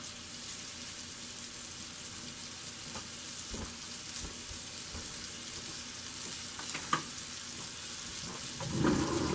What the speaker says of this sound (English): our roast searing